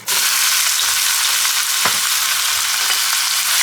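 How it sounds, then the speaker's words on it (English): Thin-sliced beef sizzles loudly in hot avocado oil in a pan, a dense, steady crackle that starts abruptly and holds close and bright with occasional sharper pops, no talking. "This is just some avocado oil, and we are going to get our beef in here."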